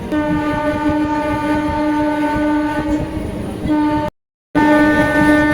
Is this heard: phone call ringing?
no